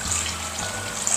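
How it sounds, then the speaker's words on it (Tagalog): Tap water pours steadily into a cooking pot for champorado, a continuous close splashing rush that runs alone for about a second. "Ngayon naman ay maglagay tayo ng tubig."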